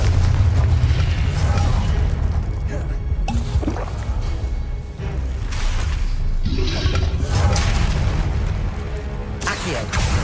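Confringo blasting spells exploding again and again in the Hogwarts Legacy video game, dense booming bursts over a steady rumble of combat effects, with a voice talking through much of it.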